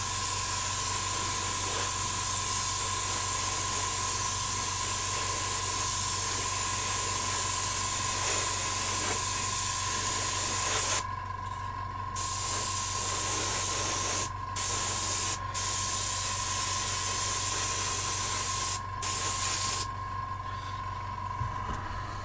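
Airbrush spraying primer onto miniature models, fed from a 15mm paint pot: a close, continuous airy hiss that runs steadily, then breaks into short pauses and restarts in the second half, with no talking.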